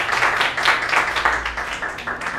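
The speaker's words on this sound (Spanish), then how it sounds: "Un aplauso." An audience at a talk applauds, a brief burst of dense clapping from a small crowd in a room, fairly close and fading slightly toward the end.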